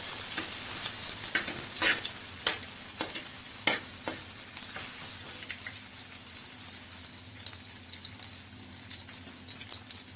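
Garlic sautéing in a pan for adobo, a continuous crackling sizzle broken by a run of sharp utensil scrapes and taps early on that thin out as the frying settles.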